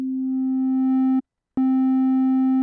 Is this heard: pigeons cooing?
no